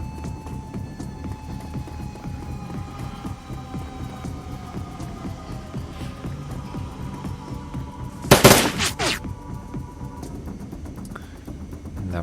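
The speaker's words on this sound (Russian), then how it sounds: "Пусть еще под пулемет подходят. Пока пулемет есть." A short, loud burst of machine-gun fire from the video game Shadowrun: Dragonfall erupts over a steady low electronic hum, then fades back into the droning background. No one speaks.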